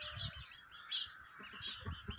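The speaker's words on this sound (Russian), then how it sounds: "Это вот петушок суссекса будет." Sussex rooster and chickens in a poultry yard, with soft, repeated chirps and clucks at a steady close distance and no talking.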